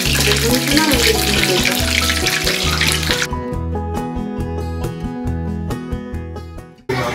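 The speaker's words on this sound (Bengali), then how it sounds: "এখানে এখন চলছে বেগুনি ভাজা" Eggplant fritters (beguni) fry in hot oil at a festive gathering, with a loud, busy hiss that thins out midway, then lighter crackling and a clattering knock near the end, while a background hum continues underneath.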